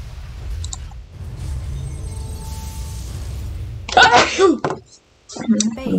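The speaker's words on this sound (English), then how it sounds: "I think I'm gonna sneeze again." A person sneezes once, loud and close, over a low rumble of background game sound from a StarCraft II: Wings of Liberty session.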